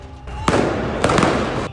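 Protesters' fireworks explode loudly at a street demonstration in Tbilisi, with several sharp cracks and bangs in quick succession over a crowd's roar.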